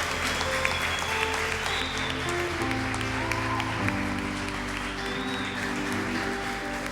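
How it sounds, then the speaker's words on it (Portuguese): A church congregation claps together during a worship service, steady mid-distance applause running throughout while sustained musical tones play underneath. "vamos aplaudir Jesus."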